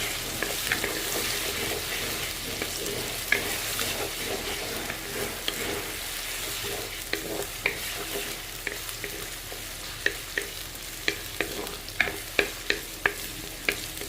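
Chicken legs and onions fry in a pan, Andhra style, with a steady close sizzle and spatula taps and clicks scattered through it.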